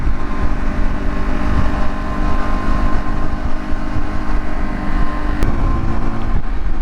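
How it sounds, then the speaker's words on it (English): A 125cc motorbike runs while being ridden, its engine droning continuously and loudly up close beneath heavy wind rush, with one sharp click near the end. "the bike feels like it's running absolutely fine"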